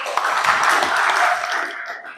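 Children clapping together in a classroom, a dense, steady patter of small hands lasting about two seconds before tapering off.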